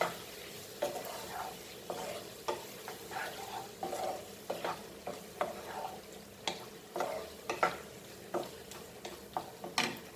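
Penne pasta with paneer, capsicum and tomato sauce being stirred in a pan, rhythmic scraping strokes about every half second over a soft background sizzle, close but fairly quiet, no talking.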